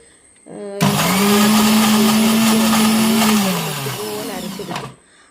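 A mixer grinder grinding a masala of chilli powder, black pepper, shallots, garlic, ginger and salt for fish fry: a loud motor starts abruptly, whirs steadily for about four seconds, then slows and cuts out.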